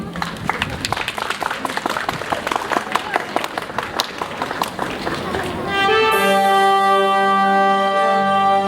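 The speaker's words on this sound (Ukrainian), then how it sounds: "Зустрічайте оплесками" Audience at a charity concert applauding to welcome performers, a dense burst of many hands clapping for about six seconds, fairly loud, before giving way to a sustained musical tone as the performance begins.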